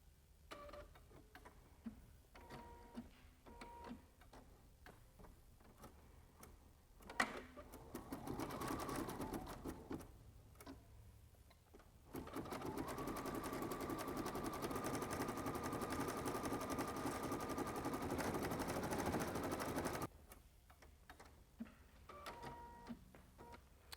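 An embroidery machine stitches a tack-down pass on a cat treat sack, a steady rapid mechanical rattle that starts at about seven seconds and runs loud and unbroken until near the end, with quieter handling sounds before and after.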